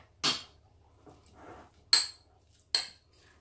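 Salad ingredients are tossed together in a bowl with a utensil: three sharp clinks against the bowl, with softer scraping between them, close up in an otherwise quiet room.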